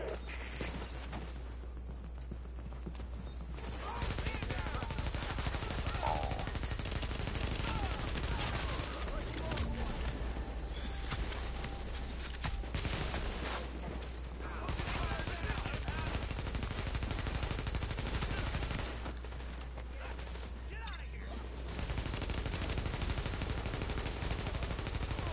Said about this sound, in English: Where are you shooting me from,